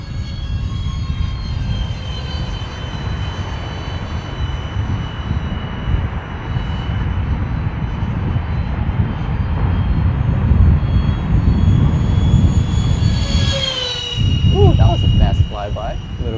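A remote-controlled airplane with folding wings drones steadily and grows louder as it makes a close flyby into the wind, its engine pitch shifting near the end, while a voice talks over it.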